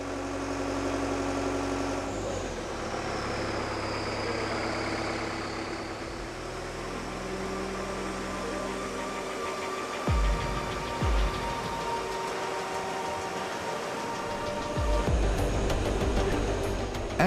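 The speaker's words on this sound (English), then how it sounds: "The operator of the aircraft tractor grabs the nose wheel to carefully push it out of the hangar" Heavy aircraft tractor engine rumbling steadily at low pitch while it pushes an Airbus A350 out of a manufacturing hangar, a continuous near drone with a faint whine early on and a few louder thumps and clanks toward the end.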